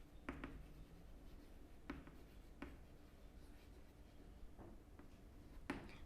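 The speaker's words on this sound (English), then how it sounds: "therefore I am just writing X" Pen on paper writing out a maths answer by hand, quiet scratchy strokes with several short taps and pauses, faint and close.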